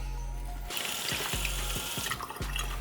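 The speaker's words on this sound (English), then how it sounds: "Just spills the water off the surface." Water poured from a tap onto a waterproof jacket, a steady close splashing stream spattering and beading off the fabric after a brief hum, with no one talking.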